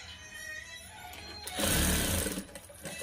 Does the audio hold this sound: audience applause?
no